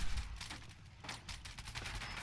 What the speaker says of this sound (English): Could you please stop shooting?